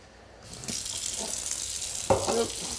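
Running tap water splashes steadily at a sink as juicer press parts from a Goodnature Hummingbird prototype are rinsed, with a louder burst of splashing near the end.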